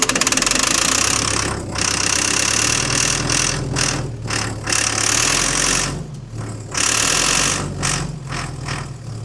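An old dozer engine, abandoned in a barn and fed ether through a cracked fuel line, cranks and catches, loud and close, turning over in uneven bursts with brief drops between them.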